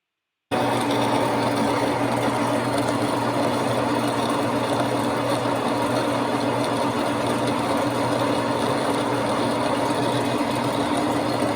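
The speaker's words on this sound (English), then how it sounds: "Next you'll see the machining I did." Steady machine drone as a bronze bushing bore is machined for a 1954 Insley K12 shovel's boom hoist sheave, a continuous even whirring hum that starts abruptly and holds constant, loud and close.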